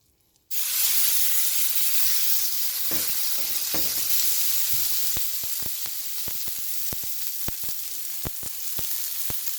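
A beef steak searing in oil on a smoky-hot skillet: a loud sizzle and hiss bursts in abruptly and holds steady, with sharp crackles and pops spattering through it, no voices.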